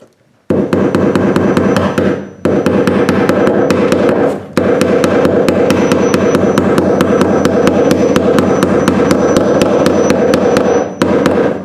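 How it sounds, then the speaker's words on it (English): Electrical cable being stapled down along a basement or attic run while wiring a new light into an existing circuit: a loud, steady stream of sharp clicks and knocks that continues with two brief pauses. "So we're going to staple this all the way down"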